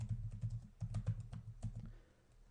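Computer keyboard typing while entering Cisco EtherChannel commands: a run of quick, close key clicks in short bursts with brief pauses, tapering off near the end, with no talking.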